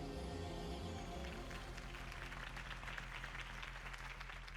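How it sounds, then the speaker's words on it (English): A crowd claps and cheers steadily in Batman: The Telltale Series, building from a music-backed start into sustained applause that fills the space. "could have heard that applause"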